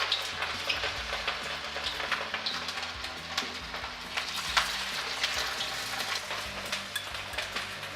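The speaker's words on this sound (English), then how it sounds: "So now I'm going to fry these fish cakes." Thai fish cakes sizzling in hot oil in a wok, a steady close crackle and bubbling with frequent sharp pops, no talking.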